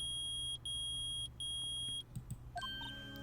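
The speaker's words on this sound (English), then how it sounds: "It's beeping! The metal detector's found something!" An electronic metal detector in the Phoenix Wright: Ace Attorney video game gives three loud, steady high-pitched beeps in even pulses, followed by a quick run of rising chiming tones.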